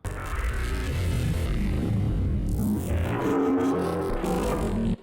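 A neuro bass sample stretched out and doubled into a glitchy, broken-sounding bassline, loud and continuous with a dense low end and a jarring shift partway through, alone without talk.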